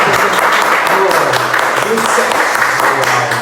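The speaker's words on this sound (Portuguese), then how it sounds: "Gente, uma salva de palmas pelo primeiro." Audience applause at a business event, a sustained bed of many hands clapping loudly with a low hum and faint voices running beneath.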